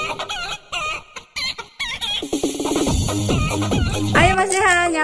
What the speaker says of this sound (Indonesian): Oh, ada ayam.